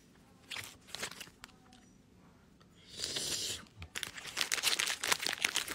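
A fruit snack bag crinkles and rustles up close in bursts, with a louder sustained crinkle in the middle and busier scratchy handling toward the end, loud and nearby, no speech over it.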